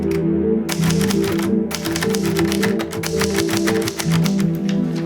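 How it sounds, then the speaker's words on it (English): A typewriter clattering continuously and loudly, close up, with dense rapid keystrokes and mechanical clacks running the whole time over a low steady musical bed. "then begins typing."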